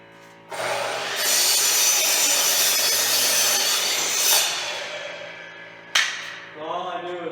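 A saw cuts a 30-degree angle into a wooden rail post for a pole barn loft deck, one loud continuous rasping cut lasting several seconds before ending with a sharp knock and faint rattling.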